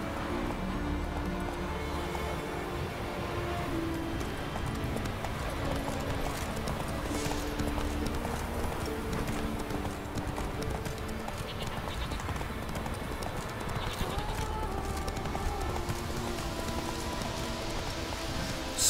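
Roach trots in The Witcher 3, hooves clopping in a steady rhythm over a constant bed of ambient game sound and music, with no voices.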